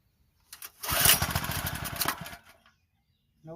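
Homelite 79cc edger engine, just after a recoil repair, firing on a pull start: a rapid chugging burst that sputters for about two seconds and dies, followed by silence and another faint pull.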